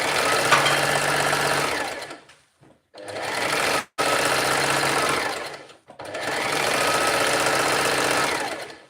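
A Singer Heavy Duty 4423 sewing machine runs fast in three long bursts with short pauses between, a loud, close, rapid mechanical whir and clatter, noisy and steady while stitching.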